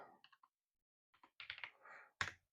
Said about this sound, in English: In here I typed in multi-extrude,